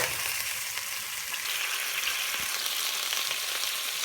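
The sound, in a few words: chicken searing in a pan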